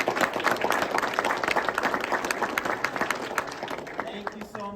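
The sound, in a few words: audience applause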